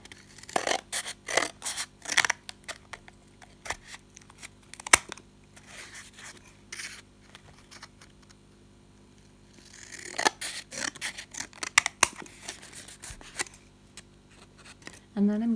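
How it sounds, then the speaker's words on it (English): Scissors snip through a cardboard toilet paper roll, cutting it into strips about one centimetre wide, in bursts of crisp close cuts separated by pauses, with a rustle at the end. "I've got a toilet roll and I'm just going to be cutting it into little strips"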